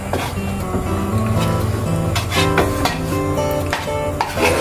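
Butter sizzles in a hot pan with a constant frying hiss and a few scraping stirs, under background music.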